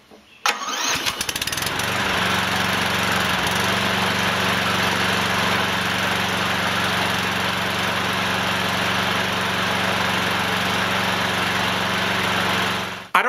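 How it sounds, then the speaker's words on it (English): A Briggs & Stratton lawnmower engine with Quiet Power Technology starts up, then runs at a steady, loud, continuous drone for about eleven seconds before cutting off, with no talk. "let's try the new quiet power technology engine on the lawnmower"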